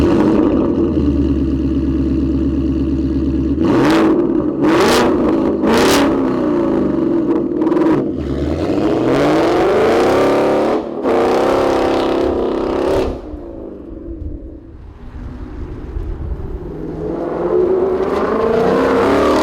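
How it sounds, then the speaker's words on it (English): A 2018 Mustang GT with a Corsa Xtreme cat-back exhaust idles with a deep burble, then revs sharply several times, loud and close, before settling into a rumbling idle again. "this is a loud exhaust."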